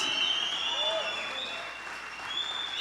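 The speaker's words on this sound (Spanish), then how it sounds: "Gran alegría, gran ovación, grandes gritos, grandes ovaciones." A church congregation applauds during a service, with steady sustained clapping filling the room and some crowd noise and voices mixed in beneath.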